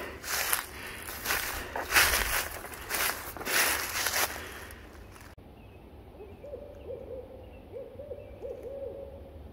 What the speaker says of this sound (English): And the owl's not too far behind my house,